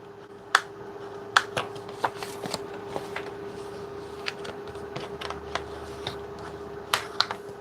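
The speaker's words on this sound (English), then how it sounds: "we're going to fold these in, making sure they line up." Scored paper for a gift bag is folded, giving a series of sharp, scattered crinkles and taps over a low steady hum, close by and fairly quiet.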